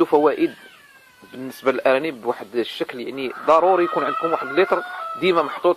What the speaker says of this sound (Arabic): كنعتذر على الصوت ديال المقاقيه ديال الدجاج، لان اوقيتهم هذه باش كيوضعوا البيض